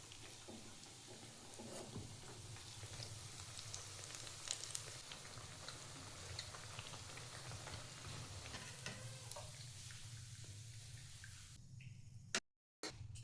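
Bread bajji fritters frying in oil, a steady soft sizzle and crackle with scattered pops and occasional stirring ticks, close and continuous, with a brief dropout near the end.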